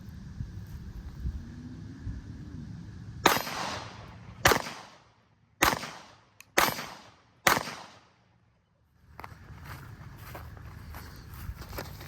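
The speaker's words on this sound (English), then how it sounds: "Now we're gonna shoot with 9mm. This is the SIG P365." Five sharp 9mm shots from a SIG P365 pistol fired at a Level IIIA body armor vest, spaced about a second apart outdoors, each loud crack ringing out briefly before a quiet pause and low background noise.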